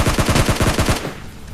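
Rapid automatic bursts from a SCAR rifle in a battle-royale style video game, about a dozen sharp shots in quick succession, loud and close, then cutting off into quieter ambient noise.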